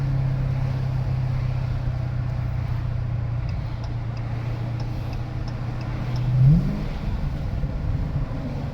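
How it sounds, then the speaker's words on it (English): A 2019 Dodge Challenger Scat Pack Widebody with the mid muffler deleted idles with a deep, steady exhaust burble and gives a brief throttle blip near the end. "Man, this exhaust is insane stock."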